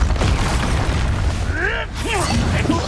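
Expulso spell explosions in the video game Hogwarts Legacy: a loud booming blast opens and rolls on, followed by swooping magical effects, with a voice calling out over the game sounds.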